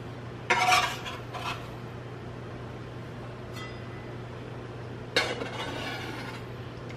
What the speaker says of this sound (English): Now we're gonna go ahead and scoop these in.